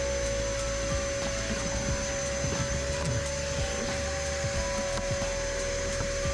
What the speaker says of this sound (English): I also have a vacuum for suction and collection of debris